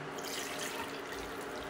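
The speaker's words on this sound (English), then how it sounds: "I'm draining this kidney beans" Liquid from canned kidney beans drains into a strainer, a continuous close splashing rush of water that stays steady and fairly loud throughout, with no talking.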